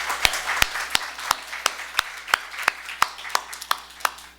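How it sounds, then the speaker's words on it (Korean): Slow, sparse hand claps from a church congregation after a call to applaud, about a dozen sharp separate claps at an uneven rhythm, fairly close in a quiet room with a low steady hum underneath. "한번 박수 한번 합시다"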